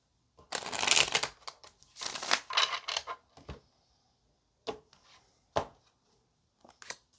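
A deck of tarot cards is shuffled in several close, crisp bursts of riffling and flicking, with short quiet gaps between and a few soft single card snaps toward the end.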